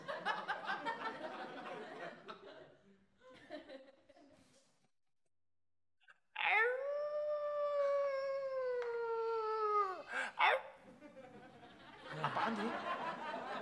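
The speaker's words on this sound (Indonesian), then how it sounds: "Tadi ada suara anjing melolong." A dog howls once in a long, sustained wavering cry, loud and near, with people talking and laughing before and after it.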